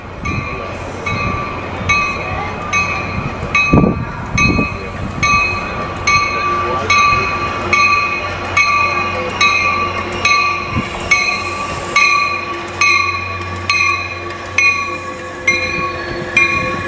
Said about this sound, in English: This is not the train we're going to go on